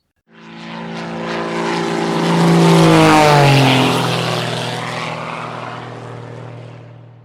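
A propeller plane flies past, rising from silence into a loud, close drone whose pitch sweeps downward as it passes overhead, then fades gradually as it moves away, with no talking.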